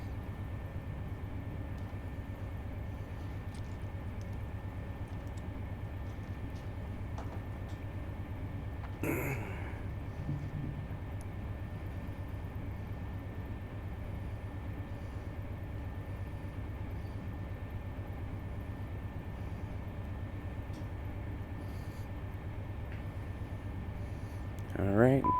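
In Run8 Train Simulator, a train locomotive gives a steady, moderate engine rumble with a low droning hum. A brief squeal-like burst cuts in partway through and another comes at the end.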